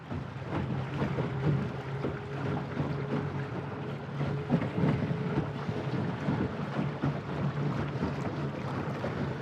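An electric jon boat runs at half throttle on open water, with a low steady hum under constant wind buffeting and water rush, close and continuous throughout.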